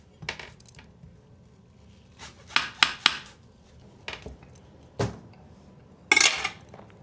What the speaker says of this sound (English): Then we chop up the onion.